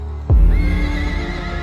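A horse in a film scene gives one loud, sudden neigh that tails off over a low, steady rumbling drone.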